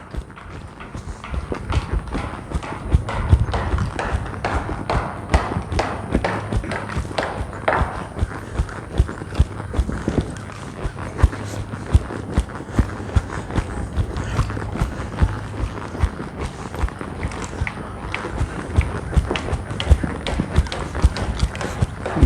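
A horse walks over trail boards laid out on the ground during a training and schooling session, its hooves producing a steady, close clip-clop with scattered knocks throughout.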